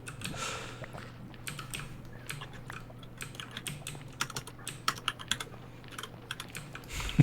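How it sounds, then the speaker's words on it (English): Rapid typing on a computer keyboard makes close, irregular clicks that grow denser and sharper toward the end. A low steady hum runs underneath, and no one speaks. "I hear you typing."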